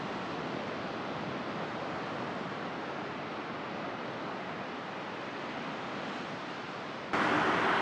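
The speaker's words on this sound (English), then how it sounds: "Nice little waves coming in." Small ocean waves roll onto a surfing beach near Hyuga, Japan, as a steady, broad wash of surf that stays even throughout, with wind noise on the microphone rising sharply in the final second.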